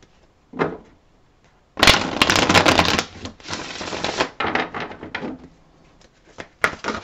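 Tarot cards being shuffled up close, with a brief riffle, then a long busy burst of rapid flicking and slapping, and a few shorter bursts after a pause, with no voices.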